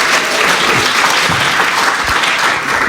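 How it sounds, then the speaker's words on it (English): A room of listeners at a church-style gathering applauds steadily, a dense even round of clapping that fills the whole short stretch without speech. "if you guys could give her another round of applause"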